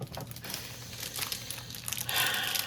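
A birthday trading card pack being cut and torn open, continuous close crinkling and tearing of foil wrapper that grows louder near the end.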